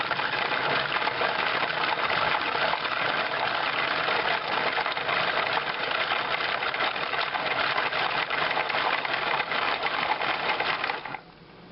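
A kitchen machine purees lobster crab bisque with a continuous, loud, churning whir that holds steady for about eleven seconds before stopping suddenly near the end, with no talking over it.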